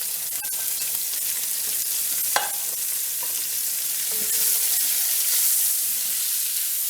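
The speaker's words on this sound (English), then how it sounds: "Now what I'm going to do is add our veggies to that." Vegetables hit a hot pot roast pan and sizzle with a bright, steady hiss, alongside a few scrapes and stirring knocks, close and continuous.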